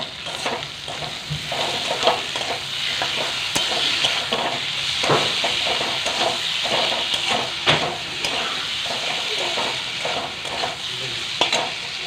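Spice paste with salt, chopped tomato and green chili stirred and fried in a pan, with a constant sizzle under frequent scraping and knocking of a spatula, close and busy, and no speech.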